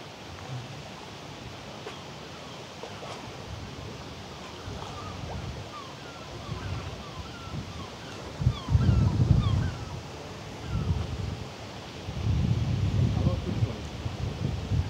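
Steady gusty wind roars and buffets the microphone on a cruise ship deck, surging louder in bursts, with faint chirping in the background.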